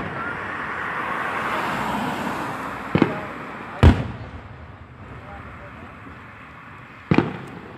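Fireworks burst outdoors at a July celebration, with three sharp booms spaced a few seconds apart over a rumbling background of distant traffic and crowd noise, and people talking nearby.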